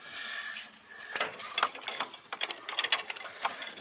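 A ratchet clicks in quick irregular bursts while turning a bolt on the transmission mount of a 2010 Hyundai Santa Fe V6, close and crisp with soft mechanical clatter, no talk.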